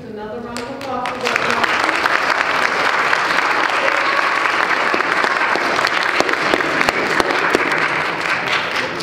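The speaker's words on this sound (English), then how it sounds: "Let's give these students another round of applause." A large audience at a high school awards ceremony for grades 9-10 students, with voices briefly audible at the start before loud, dense applause swells in and holds steady for several seconds.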